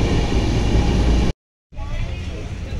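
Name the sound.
Darjeeling Mail superfast express train arriving at New Jalpaiguri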